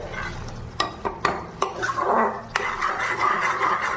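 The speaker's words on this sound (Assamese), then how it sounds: "আকৌ মই এইখিনি ভাজি তেল বাহিৰ হ'ব দিম।" A chicken malai kofta mixture fries in a pan until the oil separates, giving a continuous sizzle broken by several sharp clicks of a spoon stirring against the pan.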